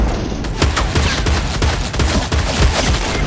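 Rapid bursts of gunfire from an enemy's weapon in Fortnite, loud and close, crackling in quick irregular volleys without pause across the whole stretch.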